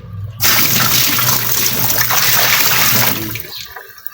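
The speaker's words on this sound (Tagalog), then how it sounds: "Lagyan natin ng tubig." Water gushes steadily into a washing machine for a few seconds, loud and close, then cuts off.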